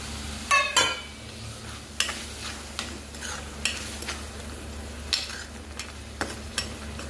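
Boiled water goes into a hot sizzling pan of a salted home-cooked dish, followed by steady stirring with a spoon scraping and tapping the pan at irregular intervals, loud and close with no talking.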